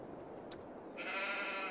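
A single drawn-out sheep bleat from the Farming Simulator 22 game rises after a brief sharp click and holds steadily to the end, with no talking.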